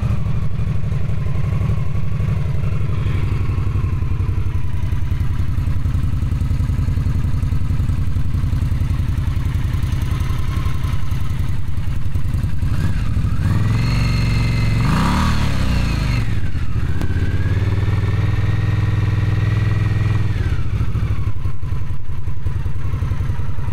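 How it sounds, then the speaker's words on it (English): Indian Scout Bobber motorcycle fitted with Vance and Hines slip-on exhausts, a loud close steady engine rumble that idles then revs up and falls back in two rising whines, with wind buffeting throughout. "just trying to give you a sound comparison. This is on the Indian Scout Bobber."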